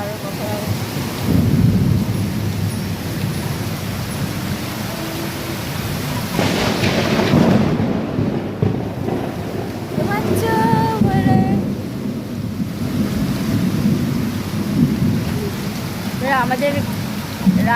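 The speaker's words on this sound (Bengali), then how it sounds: "খুব বৃষ্টি হচ্ছে, খুব বিদ্যুৎও চমকাচ্ছে" Heavy rain roars steadily while rolls of thunder swell and rumble through it during a storm. Voices can be heard faintly beneath the downpour in places.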